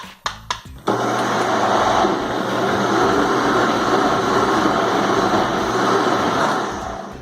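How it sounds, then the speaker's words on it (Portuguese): A blender purees pumpkin soup with chives, leek and basil for a chicken broth, starting with a few short pulses before settling into a loud, steady whirring roar that runs continuously to the end. "Aí deixa batendo por uns 3 minutos, até moer bem, virar um caldão mesmo."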